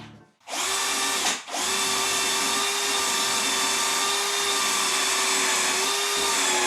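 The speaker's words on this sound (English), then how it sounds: "I'm drilling out for the wooden nails using a 6mm drill bit" A power drill with a 6mm bit whines steadily at close range drilling holes in wood, briefly stopping twice early on before running continuously at an even pitch.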